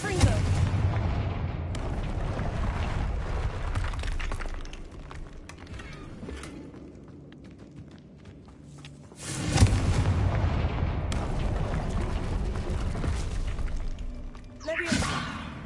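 The Confringo explosive spell goes off in Hogwarts Legacy with heavy booming blasts and rumbling roars, one burst near the start and a louder one midway, over a dense background of game sound.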